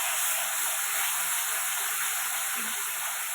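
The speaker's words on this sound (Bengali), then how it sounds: "দিয়ে এবার তেলটার মধ্যে পেঁয়াজ বাটাটা দিয়ে দেবো" Onion paste frying in hot oil makes a steady, loud, even sizzling hiss that holds without pause throughout.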